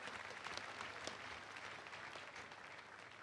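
A congregation at a church service led by TB Joshua applauds steadily, a faint, distant, even rush of many hands with no clear breaks.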